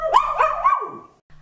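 A small pet dog barks close by in a little house, a few quick yelps merging into a whining, drawn-out bark that trails off, then brief quiet.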